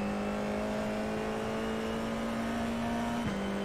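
Formula iR04 open-wheel race car in the iRacing simulator at Okayama, engine droning steadily at high revs with a continuous whine, then a quick dip as the gear changes near the end.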